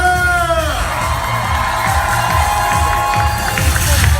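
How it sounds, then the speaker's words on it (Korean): An audience at a comedy show curtain call cheers and shouts loudly and without a break, with children's voices, whoops and a few tonal notes near the start. "여러분들 큰 박수로 맞이해주십시오."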